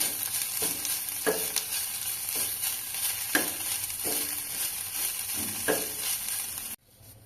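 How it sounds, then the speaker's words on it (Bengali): Hot tadka is tipped into masoor dal and sizzles in a steady, bright hiss. Regular scraping strokes of stirring sound over it before the sound cuts off abruptly at the end. "তরকাটা দিয়ে দিলাম, দিয়ে আরও ভালো করে একটু মিশিয়ে নিয়েই নামিয়ে দেব।"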